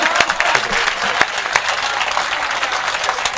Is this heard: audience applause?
yes